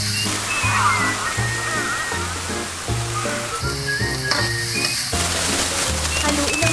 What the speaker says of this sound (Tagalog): Ihalo na natin ang noodles kasama ang mga pangpalasa nito